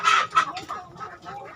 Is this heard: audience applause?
no